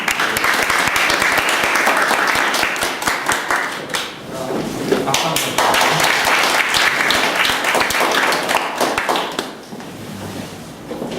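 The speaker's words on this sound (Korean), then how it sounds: "서성교부님 박수 한번 청해 주시죠." Sustained audience applause welcoming Seo Seong-gyo at a Korean discussion event, a dense, close wash of many hands clapping that dips briefly around the middle and fades slightly toward the end.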